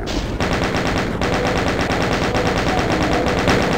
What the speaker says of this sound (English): I have a chain gun. Say hello to my little friend!